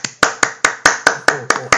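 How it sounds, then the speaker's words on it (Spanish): A single pair of hands claps nine times in an even, quick rhythm, each clap sharp and close with a short decay, sounding like an applause effect at a student video game presentation. "Los aplausillos, ¿no?"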